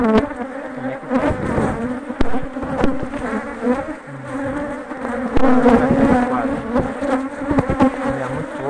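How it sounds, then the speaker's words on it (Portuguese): Honeybees buzz loudly in a strong hive as it is opened and smoked for a natural split, a dense close drone with fluctuating pitch and scattered knocks and handling sounds. "A colmeia tá forte, mas vai pegar uma fumacinha."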